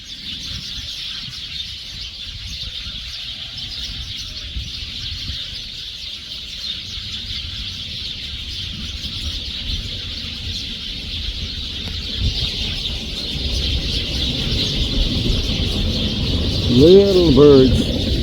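Flock of small gray birds gathered in a tree before sunset, a dense continuous chorus of high chirps and twitters, growing louder toward the end, with a clearer call near the close.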